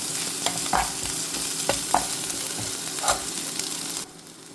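A spatula scrapes and stirs through a sizzling pan of Chinese potato stir-fry with mustard seeds as crushed chili is mixed in, steady frying hiss with several distinct scraping strokes, close and fairly loud, cutting off near the end.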